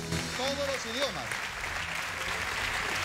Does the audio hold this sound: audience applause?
yes